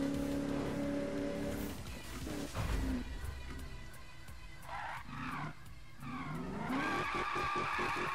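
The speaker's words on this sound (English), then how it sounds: "Burnouts for the win!" A car in Need for Speed 2015 does a burnout, with loud tire squeal and skidding over a roaring engine that rises and falls. The sound runs steadily for several seconds with no talk.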